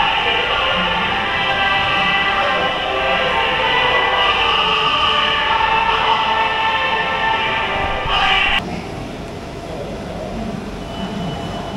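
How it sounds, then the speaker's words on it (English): An overnight sleeper train on the Bangkok to Kuala Lumpur route rumbles steadily nearby at a station with a broad, continuous roar, then the noise drops abruptly near the end to a quieter hum. "Okay, so this is the next train"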